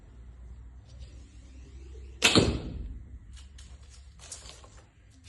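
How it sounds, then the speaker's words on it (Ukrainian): A single sharp twang and whoosh as an arrow leaves a bow, followed by a few faint clicks and rustles nearby. "Ну і що ж, спробуємо зробити постріл."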